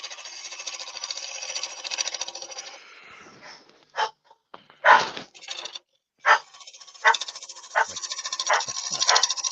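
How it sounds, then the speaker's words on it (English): A dog barks and yelps nearby in bursts, broken by pauses and rustling handling noise around a workshop where wet wood is being turned. "I hear Wayne's dog."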